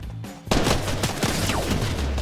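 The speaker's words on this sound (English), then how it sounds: "somebody's firing on me too." Rapid automatic gunfire in a Fortnite match breaks out suddenly after a quiet lead-in, rattling bursts of shots continuing steadily and fairly close at moderate loudness.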